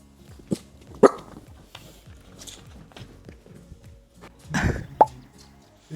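A dachshund excitedly greeting someone arriving home at the front door, sharp scattered barks and yelps mixed with scrabbling paws and footsteps on the floor, close by and rising in a burst toward the end.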